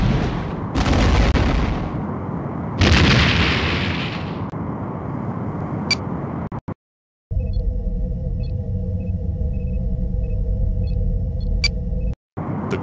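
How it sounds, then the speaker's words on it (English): A starship blows itself up after a self-destruct sequence in the DOS game Star Trek: A Final Unity: two heavy explosive blasts with a long rumbling roar, then a brief silence followed by a steady humming bridge ambience with faint electronic beeps. "The enemy has engaged in self-destruct sequence."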